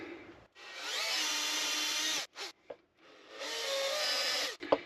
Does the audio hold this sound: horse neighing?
no